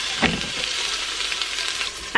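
Onions sizzle in olive oil inside a heated Instant Pot, giving a steady, close frying hiss with a few stirring knocks at the start and end.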